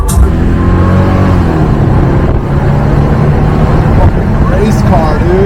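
A Mercedes R129 SL500 on new AMG wheels accelerates, its engine rising in a loud, close, steady roar with road and wind noise from inside the cabin, a voice talking over it.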